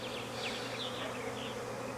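Honey bees from a double swarm buzz steadily around a hive in Jacksonville, Florida, a dense, continuous close-up drone with individual insects flitting past, heard alone.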